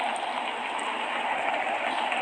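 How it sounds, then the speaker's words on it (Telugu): Acid rain falls in the Roblox video game, a steady even hiss of rainfall that holds at a constant level throughout with no voices. "మనకైతే యాసిడ్ రెయిన్ పడుతుంది చూడండి"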